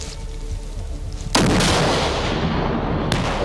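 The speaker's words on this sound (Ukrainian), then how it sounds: "Постріл!" A loud gunshot cracks out over steady background rumble during military recruit training, followed by a sustained echoing roar; a second sharp report comes near the end.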